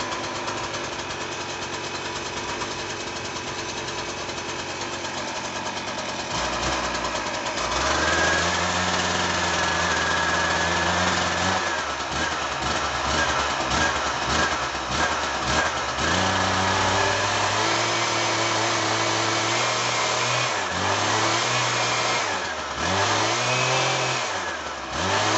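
A two-stroke leaf blower engine runs alone and close by, with a steady high buzzing drone that rises and falls as the throttle is revved several times.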